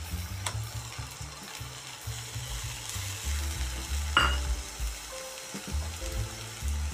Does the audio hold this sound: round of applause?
no